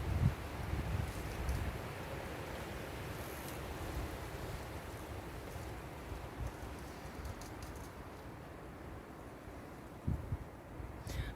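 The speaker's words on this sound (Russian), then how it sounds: "Жуткий ветер." Strong wind blows through a young tree, a continuous broad rushing whoosh with gusty swells and a few rustling bursts and knocks near the start and end.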